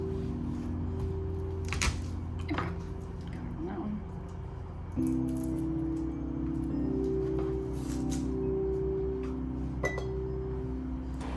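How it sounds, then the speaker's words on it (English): A wide-mouth quart glass jar gives scattered light clinks and taps as it is filled with red onions for pickling, over a low steady hum in a kitchen. "Now I'm using a wide mouth quart jar."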